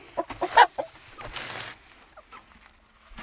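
A few short, close clucks from a chicken, followed by rustling and quieter scratching sounds.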